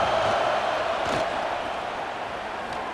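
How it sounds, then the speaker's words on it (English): A home crowd roars steadily at a football game in Texas, a dense, loud wash of cheering that holds for the whole stretch without breaks. "this home crowd is fired up and ready to make a difference today"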